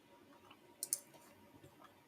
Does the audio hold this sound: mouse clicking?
yes